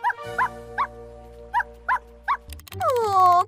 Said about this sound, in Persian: یه سگ کوچولویی که فکر کنم تو رودخونه گیر افتاده، تو دردسر افتاده.